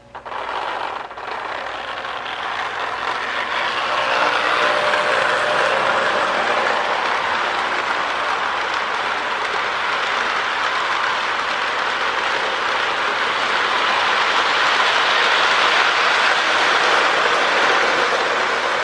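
A Marx model diesel train with traction tires rumbles along its track in a continuous, fairly loud mechanical whir with rapid clicking, starting abruptly and holding steady throughout.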